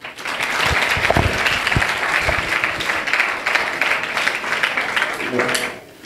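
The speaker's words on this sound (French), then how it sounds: "mérite véritablement vos applaudissements" Sustained audience applause fills a football tournament draw ceremony, steady dense clapping lasting several seconds before tapering off, with a few voices faintly mixed in.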